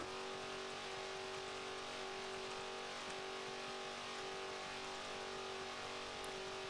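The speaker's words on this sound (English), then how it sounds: "This is a very loud car." Race car engine in the BeamNG driving game, a steady loud droning note held without pause, with no talk over it.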